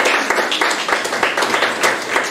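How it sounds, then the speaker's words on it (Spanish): Brisk clapping from an audience at a singing contest final greets a second-place winner, a short, close burst of applause with individual claps audible. "Un aplauso para ella."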